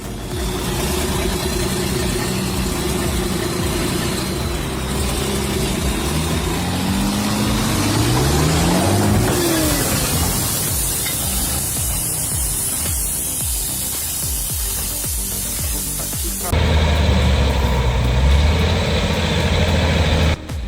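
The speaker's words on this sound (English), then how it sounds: "a heavy truck pulled by a tractor inches across a fragile, narrow bridge" A MAN TGX 510 Hydrodrive logging truck, pulled by a tractor across a narrow bridge, gives a loud continuous engine drone with rising and falling gear whine, rough rumbling texture, and a heavier low roar near the end.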